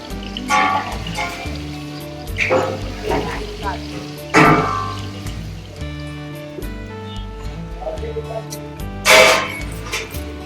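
Thalipeeth flatbread roasting on a hot pan, a steady close sizzle with a few louder crackling bursts, while voices talk over it now and then.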